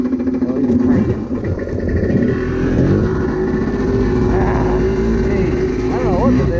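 A motor vehicle engine, freshly rebuilt with carburetor adjustments, runs loudly and close at a fairly steady, uneven note with slight revving, while a person talks over it.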